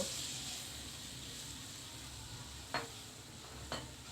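Masala being stirred with dried loitta fish in a pan: a soft, steady sizzle with two brief scraping strokes of a spoon near the end, fairly quiet overall.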